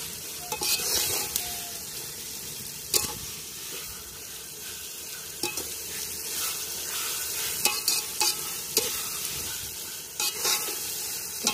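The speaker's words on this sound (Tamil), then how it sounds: "இப்போ வந்து இஞ்சி பூண்டு பேஸ்ட் வந்து நல்லா வறுபட்டுருச்சு." Onions and ginger-garlic paste fry in oil for village-style chicken biryani, a steady close sizzle broken by scraping stirs and occasional sharp clatters, with no talking.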